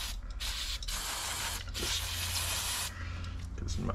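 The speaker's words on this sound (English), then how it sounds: "Just gonna hit this with a bit of carbine and throttle body cleaner." Carburettor and throttle body cleaner hisses from an aerosol can in several bursts of spray, the longest lasting about a second, close up in a workshop while work goes on to revive a free engine.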